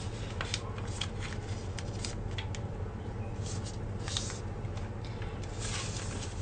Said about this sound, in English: Fold the bottom side to the center crease.